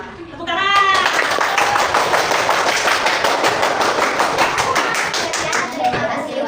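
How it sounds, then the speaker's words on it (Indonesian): Students in a classroom coding and artificial intelligence lesson burst into loud, dense clapping that starts abruptly after a brief voice and holds steady for several seconds close by. "Tepuk tangan."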